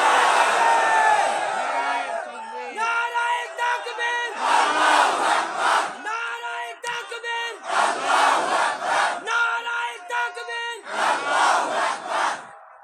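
A large crowd at a religious gathering chants the takbir in loud, rhythmic bursts of massed voices, several repeated call-and-response waves with brief pauses between them, close and dense.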